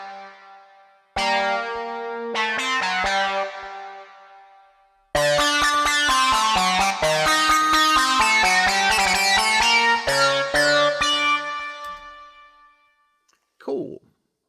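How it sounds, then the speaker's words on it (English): Logic Pro X Retro Synth lead with hard sync and a little reverb, delay and compression plays a bright harmonic melody in two phrases, the second denser and rhythmic, with a pause between and a trailing tail. "And I really like the hard sync sound that you can get out of the retro."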